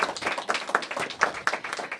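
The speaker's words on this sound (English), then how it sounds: "Give them a round of applause." Audience at a mayoral early-learning network launch event giving a round of applause, quick overlapping hand claps at moderate distance, fairly quiet and steady for a couple of seconds.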